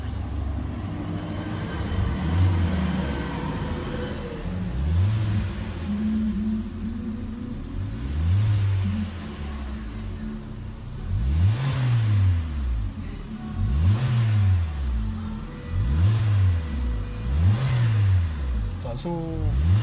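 The engine of a Hyundai Elantra revs repeatedly between roughly 1000 and 3000 rpm while intake manifold cleaner is drawn in through a vacuum hose. The rising and falling revs come in a steady rhythm, with a voice talking underneath.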